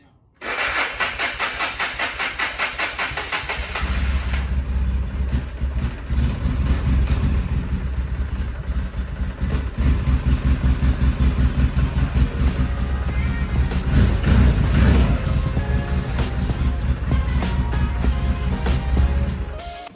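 A car engine cranks briefly, catches and settles into a loud, steady idle that runs on close by throughout, with a voice speaking faintly underneath.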